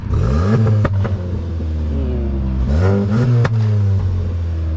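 A 2019 VW Golf 7.5 GTI Performance engine revs up twice from idle, rising and falling sharply with crisp pops between the bursts, loud and close.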